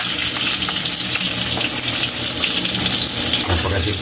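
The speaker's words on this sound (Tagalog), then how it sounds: "gigisahin muna natin yung bawang natin kaili" Garlic and onion sauté in a hot pan, giving a loud, continuous close-up sizzle with light stirring running through it.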